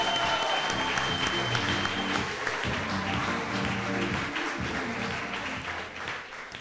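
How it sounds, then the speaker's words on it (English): Audience applause at a film festival awards ceremony, dense sustained clapping from a large crowd with faint music underneath, tapering slightly near the end. "Let's give yourself a great round of applause."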